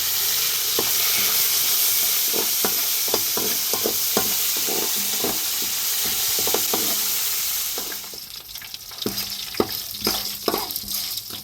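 Chana dal, urad dal, dried red chillies, green chillies, cashews and curry leaves fry in hot oil with a steady sizzle, broken by repeated scraping stirs that grow busier and brighter toward the end; no one speaks.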